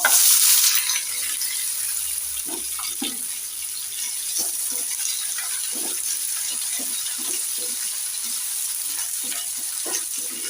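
Sliced onions sizzle in hot oil for a poori potato masala, a steady close hiss that flares loudly at the start, then holds even while scattered spatula taps and scrapes stir through it; no one speaks.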